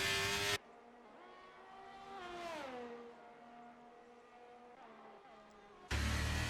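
A Ferrari race car engine in a racing video game whines at high revs. It rises and falls in pitch as the gears shift, and sharp bursts of louder sound come at the start and end.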